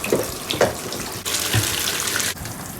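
Tap water runs steadily into a bathtub for a dog's hot bath on a frosty day, a continuous close splashing gush with a couple of brief breaks.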